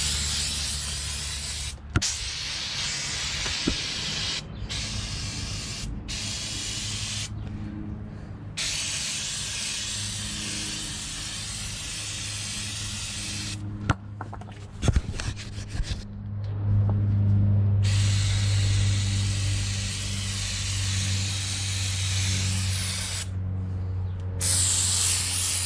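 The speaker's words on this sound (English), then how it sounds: "I got the pressure washer out, gas pressure washer" A gas pressure washer sprays the undercarriage of a Toyota FJ40, a steady loud hissing blast with a low engine rumble beneath, broken by brief pauses where the trigger is released.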